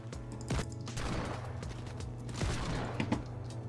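Gunfire from a boss enemy in a shooter video game played on a Celeron G1820TE mini PC, with a steady spray of overlapping shots and impacts over a continuous low in-game hum, fairly quiet throughout.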